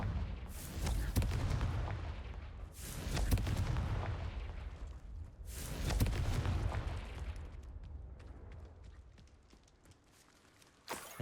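Blasts of the Confringo fire spell in Hogwarts Legacy land as three heavy booming explosions spaced a few seconds apart, each decaying into a rumbling tail, loud and close with no talk.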